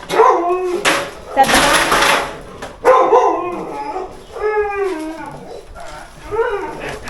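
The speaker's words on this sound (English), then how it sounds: "Dogs are fighting" Dogs fight, barking and yelping in agitated bursts, with whimpers and growly snaps mixed under excited human voices talking nearby at a rural Thai building site.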